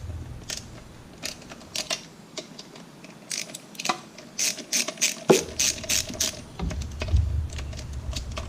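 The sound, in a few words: loosening thermostat housing bolts on a 1986 IROC-Z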